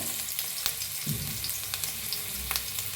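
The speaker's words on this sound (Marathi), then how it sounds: "आता आपण ह्याला फ्राय करूया तर तेल गरम झालं आहे त्याच्यात टाकूया अद्रक" Ginger, green chili and garlic hit hot oil for a chicken dish, giving a dense continuous sizzle with sharp spitting pops and a brief low bubbling surge partway through, close and loud, with no talking.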